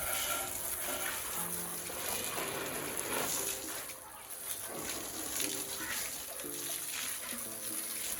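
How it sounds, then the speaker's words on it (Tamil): Water sprays steadily onto a new 2026 Royal Enfield Classic 350 motorcycle during washing, a continuous hissing splash close by that dips briefly midway, with faint background sounds and a hint of voice. "தண்ணி தெளிச்சிட்டு இருந்தேன்"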